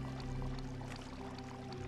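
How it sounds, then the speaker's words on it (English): Water collected from a fountain in Fallout 76, a steady close pouring and splashing wash that runs unbroken throughout, with no talking. "Let's get some dirty water here out of this fountain."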